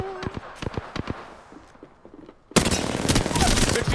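Apex Legends gunfire plays out as a rapid burst of sharp shots, then a dense, loud, sustained rattle of fire and action noise that fills the second half.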